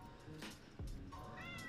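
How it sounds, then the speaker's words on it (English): A house cat gives a faint, brief meow against quiet room noise, with no talking. "I hear you, cat."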